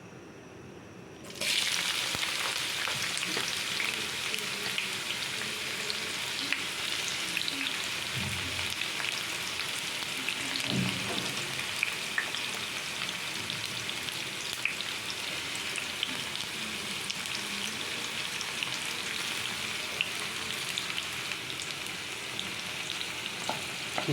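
Onions frying in a generous amount of hot oil give a steady crackling sizzle that begins suddenly and carries on evenly for a long stretch, with occasional soft stirring knocks.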